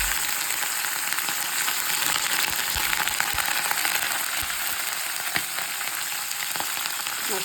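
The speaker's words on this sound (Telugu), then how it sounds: "చూసారుగా మంచిగా వేగుతున్నాయి కదా, ఇప్పుడు దీంట్లోకి మనం కరివేపాకు వేసుకుందాం." Curry leaves dropped into hot oil for a tangy lime rice dish, frying with a steady, loud, continuous crackling sizzle and scattered sharp pops throughout, no voices.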